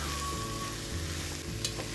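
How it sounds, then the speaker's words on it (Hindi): Masala mixture for bread rolls frying in a pan while being stirred: a dense, constant sizzle with a low hum beneath and a brief sharp scrape near the end, no talking. "और अब इस मसाले को सारे को अच्छी तरह मिक्स कर लूँगी।"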